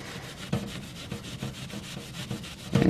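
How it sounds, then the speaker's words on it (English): A wet Brillo steel-wool soap pad scrubbed back and forth in quick, even rasping strokes, close and loud, with no voices. "I like to just dip the Brillo pad in to start with, and then you just start rubbing back and forth"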